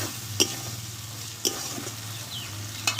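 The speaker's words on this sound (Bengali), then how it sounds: "মশলাটা পুরো আমি কষে নিয়েছি টমেটোটা কিন্তু পুরো গলে গেছে" Masala with melted tomatoes sizzling steadily in a pan, with three sharp scrapes of a spoon stirring through it, close and alone with no talk.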